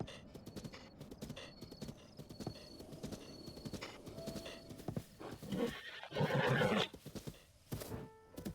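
A horse in The Legend of Zelda: Breath of the Wild clip-clops along with steady hoofbeats, then lets out a loud whinny near the end, under game music and effects.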